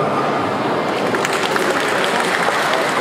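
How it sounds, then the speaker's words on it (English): An audience at a boxing weigh-in claps loudly and steadily in dense, continuous applause that holds for a few seconds. "once again, a big round of applause for Mr. J. Lau and also Samson Liu."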